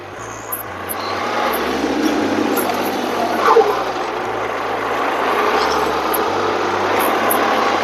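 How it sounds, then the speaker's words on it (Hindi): A mini cultivator with a blade attachment runs with its throttle set to 10, giving a steady, continuous engine drone with low rhythmic pulsing across the whole stretch and a brief louder bump midway. "अभी जो हमारा इम्प्लीमेंट है वो 10 की रेस पे चल रहा है।"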